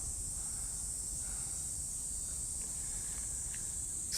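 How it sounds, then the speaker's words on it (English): Cicadas drone steadily in a morning park in Japan, a continuous high shrill buzz with faint scattered sounds underneath and no one talking. "Cicada just..."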